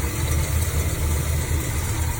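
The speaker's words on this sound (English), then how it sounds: "Idle's nice and smooth when it's cold even." A 1968 Dodge D200 pickup truck engine idles cold with a low, even rumble and slight vibration, continuous and close throughout with no other sounds.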